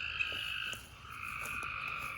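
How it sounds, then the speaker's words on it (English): Frogs croak loudly in a garden at night, a dense, continuous chorus of overlapping trilling calls with a few sharper clicks, no voices present. "Man, those frogs are loud,"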